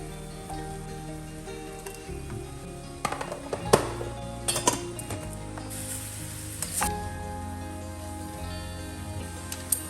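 Onion, chili and curry leaves with turmeric and chili powder sizzle in hot coconut oil while dal is tempered, a steady close crackle with a few sharper pops and utensil clinks partway through.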